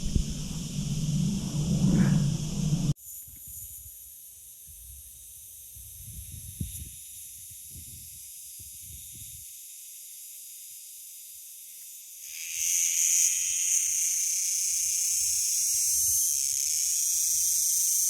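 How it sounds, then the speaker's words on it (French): A cicada sings outdoors in warm weather as a thin, steady high-pitched buzz that carries on beneath a burst of loud rushing noise at the start, then swells noticeably louder and denser toward the end. "Voilà la cigale"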